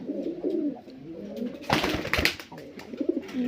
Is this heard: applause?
no